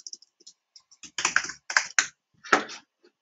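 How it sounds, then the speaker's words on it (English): Someone enters a password on a computer keyboard while setting up an AWS RDS database instance, with scattered single keystrokes that turn into quick clustered bursts of close, crisp clicks, and no talking. "you can type your password here."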